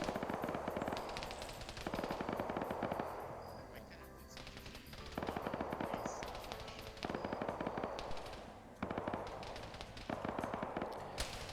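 Sustained automatic gunfire at a trench line during a team video game match, several long loud bursts of rapid shots separated by brief pauses, with voice commentary underneath.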